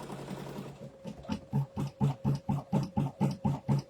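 An embroidery machine stitches the final letter onto a garment, its needle hammering in a quick, even run of rhythmic pulses that grow louder and settle into a steady beat up close.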